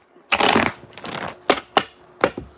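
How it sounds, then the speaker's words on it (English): Tarot cards being shuffled by hand: a dense riffling burst, a longer softer run, then three short sharp card snaps spaced apart, close and alone. "This is just while I shuffle the cards."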